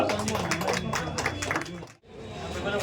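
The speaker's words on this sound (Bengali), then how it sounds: "হাততালি দিন আমার জন্য।" Audience clapping at a Vivo V70 phone launch event in Basirhat, a scattered burst of applause heard under a speaker's amplified voice, briefly dropping out before resuming.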